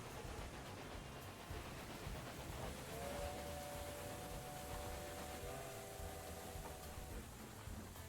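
A passing train in the railway management game Railway Empire 2, a steady broad rumble with rail noise throughout and a whistle-like tonal drone appearing midway, fairly loud and unbroken.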